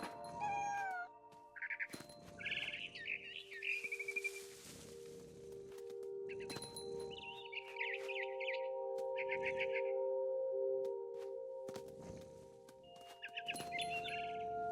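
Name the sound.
barn swallow chirping in video game What Remains of Edith Finch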